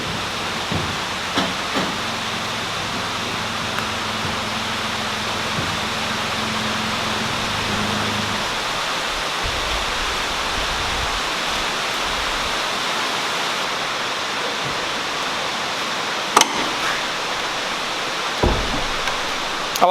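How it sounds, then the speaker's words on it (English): Steady broadband hiss of rain falling, even and continuous, with a low mechanical hum in the first half and a couple of faint knocks near the end. "it's raining."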